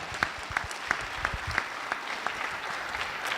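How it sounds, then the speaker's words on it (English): Audience applause at a high school Diversity Day stage event, a steady wash of clapping with a few sharper near claps in a regular rhythm, moderately quiet. "just give Ms. Shaheen and Ms. Torres and everyone from UNIDAD a great, great, great round of applause."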